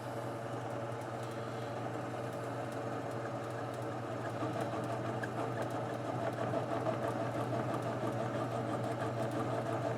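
A machine cuts a pocket into an engine cylinder head, giving a quiet, steady mechanical drone with a faint rapid chatter running through it, continuous and unchanging throughout, with no speech.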